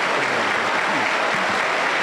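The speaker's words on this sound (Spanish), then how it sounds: "Y el pueblo del Señor lo recibe con un fuerte aplauso para Cristo Jesús." A Spanish-speaking evangelical church congregation welcomes a pastor with strong applause: a brief, loud, dense burst of clapping fills the whole moment, with faint voices underneath.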